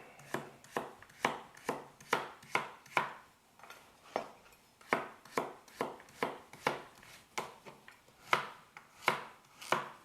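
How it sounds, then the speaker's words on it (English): Knife chopping carrots diagonally on a cutting board for chow mein, a steady series of about twenty crisp, close chops in an even rhythm with a short pause midway, no talking. "So carrots, cut in half. I prefer to cut them diagonally."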